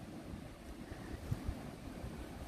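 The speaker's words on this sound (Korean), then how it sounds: "저쪽에 지금 하천에 물소리가 말도 못해요." A nearby stream rushes steadily with a faint, continuous watery hiss, heard outdoors beside a rock-plant garden with no talking.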